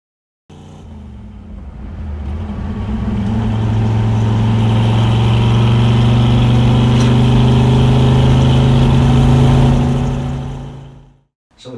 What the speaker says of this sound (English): If you've ever wanted to go on a test drive in a 65 Shelby GT350, buckle up and hang on